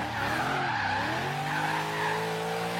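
A car drifts through a parking lot in an online racing video game, with a loud, sustained tire squeal over a continuous engine drone, steady and close throughout.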